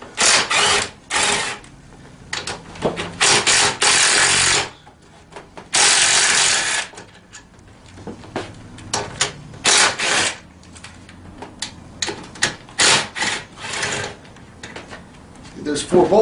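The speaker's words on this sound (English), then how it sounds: "So we'll remove these 4 bolts." Four bolts come out of the rear of a 110 mini ATV, heard as loud bursts of ratcheting and rattling tool noise alternating with quieter gaps and clinks, close up.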